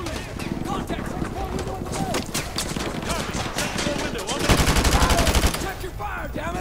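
Rapid gunfire in the Modern Warfare Remastered campaign: dense, continuous bursts of rifle and machine-gun shots crackle close and loud, building into a heavier barrage near the end.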